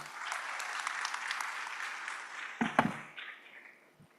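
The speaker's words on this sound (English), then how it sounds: "Please give them a round of applause." Audience at a regional land forum applauding panelists, steady clapping that tapers off, with a few sharp knocks near the end as the sound dies away.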